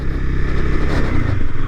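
A 2015 Honda CB300F motorcycle putters along in first gear on a rough road, a steady close low engine drone with slight rhythmic pulsing and faint clatter.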